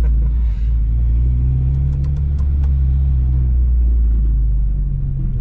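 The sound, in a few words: Honda Civic Type R EP3 engine on Nürburgring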